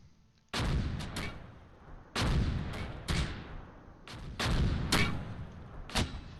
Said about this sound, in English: They're still trying to mortar us up here.